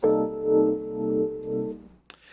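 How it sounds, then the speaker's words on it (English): A sustained guitar chord rings for about two seconds, its volume pulsing in a wavering, choppy tremolo, then stops abruptly, leaving a few faint clicks. "This is known as tremolo or rotatory"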